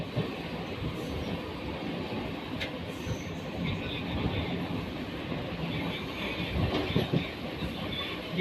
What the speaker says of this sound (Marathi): आता आपली कल्याण ट्रेन सुद्धा आलेली आहे ठाणा स्टेशनला।